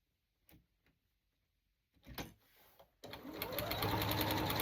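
A sewing machine stitches fabric for a handmade fabric butterfly, starting with a few short taps and bursts before running into a steady, loud continuous whir of stitching that fills the second half.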